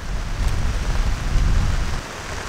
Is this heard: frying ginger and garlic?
no